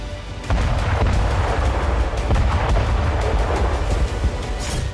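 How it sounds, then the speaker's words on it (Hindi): Missile strike explosions at a Russian airport: heavy, continuous rumbling blasts with repeated sharp booms, loud and dense for several seconds after a brief quiet start. "कई मिसाइलें रूसी एयरपोर्ट पर आकर गिरी।"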